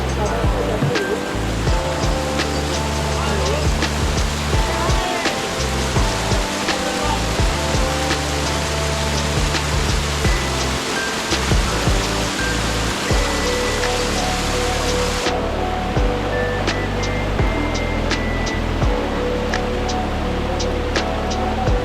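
Flowing mountain stream at Diyaluma, Sri Lanka, feeding natural bathing pools: a steady, loud broadband rush of water close by, continuous throughout with no talk over it.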